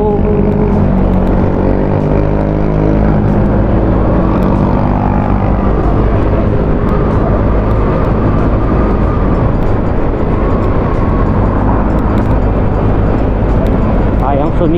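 A Samurai 155i truck's engine labours loudly up a steep uphill road, a dense, unbroken drone that holds steady throughout at close range.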